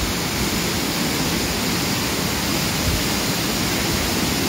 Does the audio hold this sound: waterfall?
yes